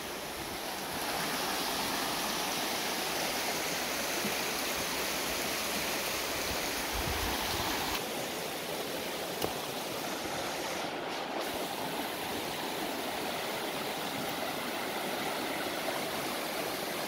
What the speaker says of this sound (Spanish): Porque este río no llega hasta el mar.